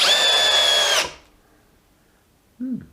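A DeWalt 12V brushless DCD701 cordless drill runs at speed with a loud, high whine for about a second. It then cuts off and winds down, followed by a short low knock.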